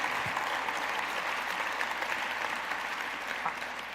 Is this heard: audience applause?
yes